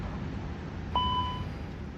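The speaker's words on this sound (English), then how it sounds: "There's the master caution bell." Airbus A330 master caution bell in Microsoft Flight Simulator 2024, a single short electronic tone sounding once over a steady low cockpit hum, no talking.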